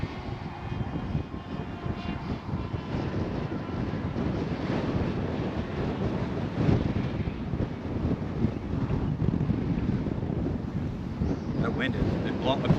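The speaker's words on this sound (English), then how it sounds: "It's like literally like blowing me almost down. That's how windy it is." Strong wind buffets the microphone in a steady, loud roar during a high-wind day of around 30 mph, with a faint propeller drone blended underneath.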